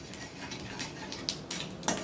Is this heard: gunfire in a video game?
no